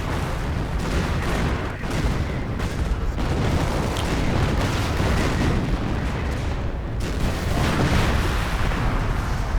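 Relentless artillery barrage in the Company of Heroes video game, heavy booms and blasts overlapping into a thick, loud rumble with repeated sharp impacts throughout and no speech on top.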